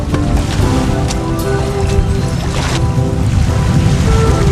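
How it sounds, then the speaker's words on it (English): A water taxi boat in Golfito, Costa Rica, gives a steady engine drone with broadband water and wind rush, continuous and close, with a few faint clanks. "we found the water taxi"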